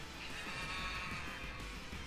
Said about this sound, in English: These things making cow noises is weird.